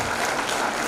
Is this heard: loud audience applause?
yes